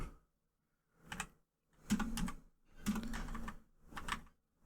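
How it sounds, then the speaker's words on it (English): Keystrokes on a computer keyboard, close and fairly quiet, coming in short bursts of rapid clicks separated by brief pauses, with no talking over them. "I'm just typing something"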